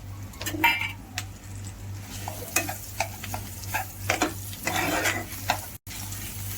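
Vegetables with mashed banana sautéed in a pan for a Jain recipe seasoned with hing and turmeric: a spatula scrapes and stirs in repeated strokes over a soft sizzle, with utensil clinks and a steady low hum beneath.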